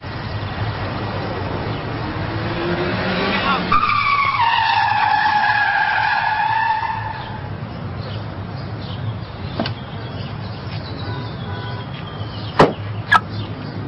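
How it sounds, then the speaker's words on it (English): Car tyres squealing loudly in a sustained skid as the vehicle swings into a parking spot under the handbrake, a rising then falling screech followed by a lower engine hum and a couple of sharp clicks. "Pull e-brake and continue to turn wheel hard."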